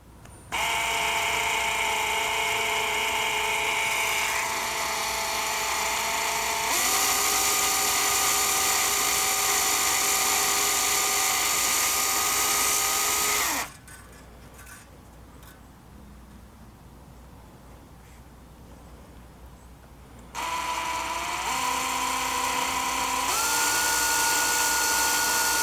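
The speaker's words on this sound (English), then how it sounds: "when we're drilling, we want to try to drill straight" A power drill bores a guide hole into a StewMac Mini-S guitar kit body, its loud motor whine holding steady pitches that step up and down, with a pause of quieter spinning in the middle.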